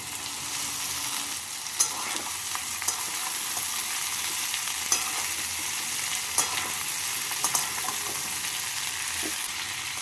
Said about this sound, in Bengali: সেদ্ধ করে রাখা বটবটি দিয়ে দু মিনিট মতো আলুর সাথে ভেজে নেবো